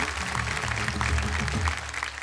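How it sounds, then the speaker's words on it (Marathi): Audience applause at a Marathi kirtan competition stage show: a steady two-second patter of clapping over a sustained low musical drone. "एकदा जोरदार टाळ्या झाल्या पाहिजेत त्यांच्यासाठी."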